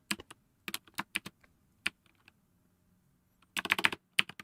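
Computer keyboard typing during an ASMR coding session, with crisp, close clacks in short bursts, a quiet gap, then a quick flurry of keystrokes.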